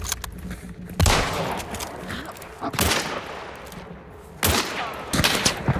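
Gunfire from a shooter video game crackles in several sharp bursts, with loud volleys near one second, three seconds and after four seconds, while players talk tensely between the shots.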